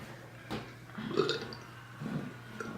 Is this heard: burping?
yes